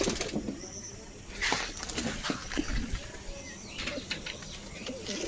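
Pigeons at a dovecote flap their wings in short rustling bursts and give soft coos, with scattered chirps nearby and faint background noise. No one speaks.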